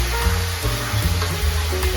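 Metal scraper working across the bottom of a hot pan as food sizzles and fries, a steady close sizzle with soft scraping strokes throughout.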